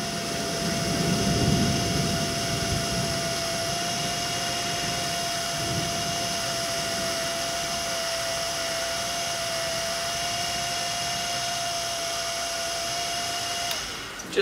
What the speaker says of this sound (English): just walk outside to your little belt sander with leather.